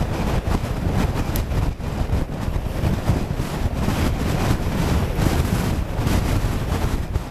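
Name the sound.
strong wind while cycling downhill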